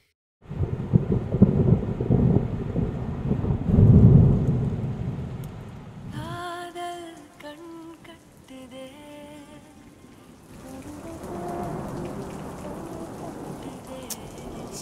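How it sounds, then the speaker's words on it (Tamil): Heavy rain pours down with rolling thunder, loud and steady for the first six seconds, then continues more softly under a tonal passage and returns as a broad rushing wash. "இங்க வந்ததுக்கு அப்புறம் தான் மழை பிடிச்சது"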